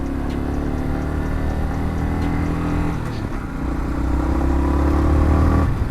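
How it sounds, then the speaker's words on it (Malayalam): A lorry approaches head-on along the road toward Ooty via Masinagudi, heard from a moving motorcycle as a loud, steady engine rumble that swells as it nears, with the bike's own engine and wind running throughout. "ആ ഇപ്പം ഒരു ലോറി വരുന്നുണ്ട് ഫ്രണ്ടിൽ നിന്ന്"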